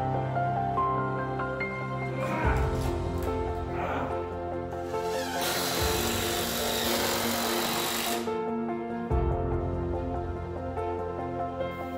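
A DeWalt circular saw cuts wooden floor framing timbers in an old stone barn. A loud, continuous machine whine runs throughout, with a harsher burst of cutting noise in the middle.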